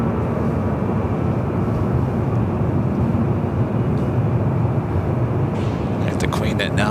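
A Boeing 747 jet taxis at LAX toward a right-hand turn, its engines giving a steady, broad rumbling roar that holds evenly throughout, with faint voices nearby.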